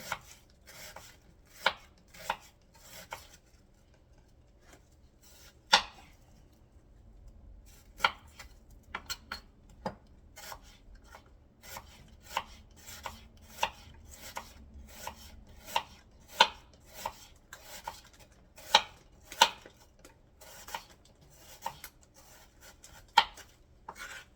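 A knife slices steak thinly on a cutting board for a cheesesteak pizza, giving a long run of sharp, irregular chopping taps, some louder than others, close by against quiet background with no voices.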